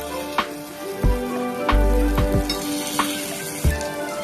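Protein kuzhi paniyaram frying in a pan over a medium flame as the pieces are turned, with a soft steady sizzle broken by several sharp clinks and taps of the utensil, close by.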